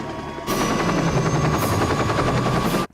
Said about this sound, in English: when you see the helicopters flying, carrying cars and trucks